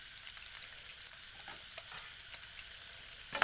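Pork fries in its own rendered fat with salt added, a soft continuous sizzle broken by light scraping strokes of stirring and a louder clatter at the very end.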